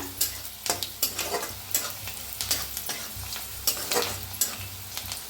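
Onion fries and sizzles in hot oil in a kadhai, a steady crackling hiss broken by repeated scraping stirs at a brisk, uneven rhythm, close and fairly loud.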